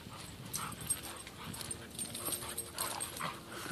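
A dog makes soft whimpering and snuffling noises outdoors over steady background rustle, close by and without talk.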